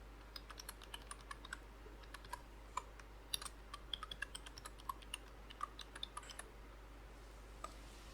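Keys on a computer keyboard are typed in a quiet room as a username and password are entered. The clicks come in faint, irregular bursts with short pauses, then a single final tap.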